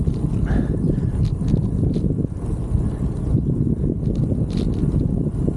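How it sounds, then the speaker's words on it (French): Steady low rumbling wind buffeting the microphone beside a bike path, continuous and fairly loud throughout, with no voices. "Ça fait du bien, un bon petit vent ici."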